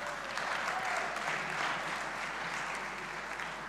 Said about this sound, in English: So maybe a little applause for Xavier Buc over there.